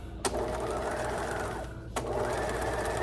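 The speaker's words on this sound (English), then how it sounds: "I'm gonna start by back stitching" A sewing machine runs steadily while back stitching fabric, giving a close, continuous mechanical whir. Two brief clunks break the hum near the start and again near the two-second mark.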